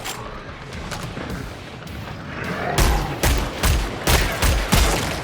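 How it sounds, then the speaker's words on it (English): Headshot gunfire in the video game Killing Floor 3: a run of sharp, loud gunshots, about six heavy blasts in the second half, rising out of steady background game noise with no talk. "Headshots sound delicious."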